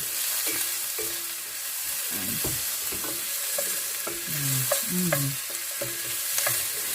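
Onions sauté in a pan with a constant close sizzle, while a utensil knocks and scrapes against the pan in irregular strokes and no one speaks.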